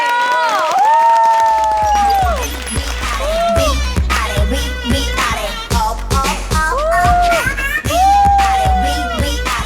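A television studio audience cheers and applauds loudly and continuously, with whoops and shouts layered over driving music and a thumping beat throughout.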